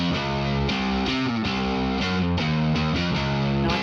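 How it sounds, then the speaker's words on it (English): A Native Instruments Prime Bass preset called Doom Bass plays loud, heavily distorted sustained notes shifting in pitch in a steady rhythmic pattern, close and alone. "So the preset I used is called Doom Bass,"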